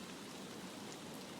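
Rain falling in the video game Escape from Tarkov on a wet, windy map, a faint, steady hiss of drops with no other sounds.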